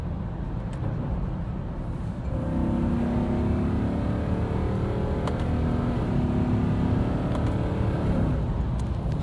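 A Porsche Cayenne GTS in sport mode rumbles from inside the cabin as it downshifts, engine and exhaust droning low and steady with a rise in revs after a couple of seconds and faint clicks.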